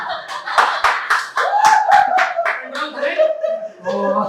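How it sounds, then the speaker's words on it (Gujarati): Scattered hand claps from an audience at a Gujarati comedy roast ring out close and crisp, mixed with speech and a bit of laughter, thinning into sparse claps as talking continues. "ભાઈ તમે જોરથી તાળી પાડતા"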